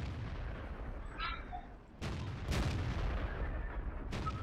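Tank cannons fire in the video game World of Tanks, a few sharp booming shots at moderate volume, one around the two-second mark and more following, heard alone without talk.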